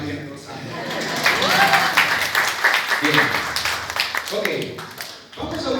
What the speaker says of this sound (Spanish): Un aplauso para esta alma generosa.